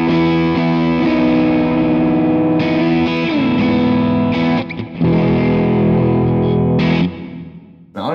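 A heavily distorted electric guitar plays through an untweaked Kemper amp profile, with thick sustained power chords and a few brief pauses between phrases, loud and close with no voices.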